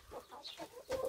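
Farmyard chickens cluck in short, uneven bursts at close range, a few birds chattering back and forth with no voices.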